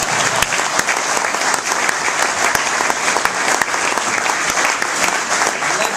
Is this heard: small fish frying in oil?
no